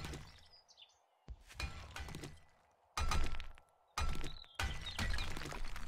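An iron pickaxe smashes rocks in the survival game 7 Days to Die, producing a handful of sharp, crunchy impact bursts spaced irregularly, with quiet gaps and faint ambient chirps between strikes.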